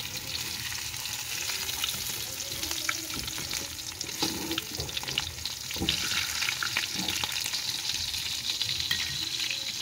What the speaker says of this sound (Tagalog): tapos na tayo magprito ng isda